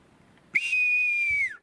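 A person whistles a single sharp, sustained high note about a second long, sliding downward at the end, imitating a hawk's call.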